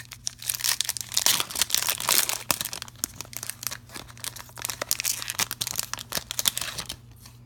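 A Pokémon Sun and Moon booster pack is torn open and its foil wrapper crinkles loudly up close, with irregular rips and crunchy rustling bursts throughout and no voices.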